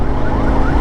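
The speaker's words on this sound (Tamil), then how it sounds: "ஆம்புலன்ஸ் சின்ன ஆம்புலன்ஸ்" A small ambulance siren wails on an Indian road, a loud, close rising tone over steady traffic rumble, brief and continuous.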